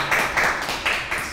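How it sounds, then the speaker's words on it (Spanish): An audience at an arts gala applauding young child performers, with steady clapping in rising and falling bursts that sounds moderately close and carries no speech. "Un gran aplauso estos chiquititos."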